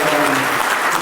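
Dense applause from a large crowd at an awards ceremony, steady and loud throughout with no pauses.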